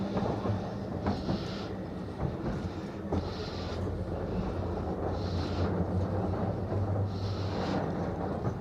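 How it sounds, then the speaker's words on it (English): A tram in Llandudno grinding steadily up a steep hill with a low, laboring rumble, periodic hissing bursts, and faint clanks, no talking. "the power it's got to take all those people and that massive tram all the way up this hill"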